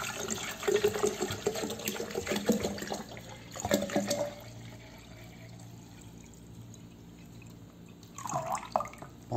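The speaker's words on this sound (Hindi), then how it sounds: "तो हम पानी डालते हैं इसके अंदर।" Fresh room-temperature water being poured into a jug, heard as a splashing, trickling stream that comes in bursts, then goes quiet before a brief final splash near the end, with no one talking.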